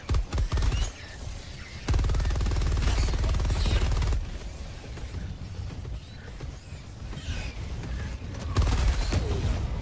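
Sustained automatic fire from the Stalwart machine gun in Helldivers 2, loud and close in long continuous bursts with brief pauses, mixed with booms and game effects; faint voice chatter underneath.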